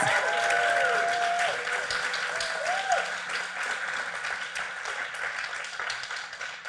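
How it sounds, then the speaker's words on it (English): Audience giving a storyteller a round of applause at a live storytelling event, a sustained even wash of clapping from a crowd, with a brief voice and a whistle-like tone near the start. "Everyone give him another round of applause, please."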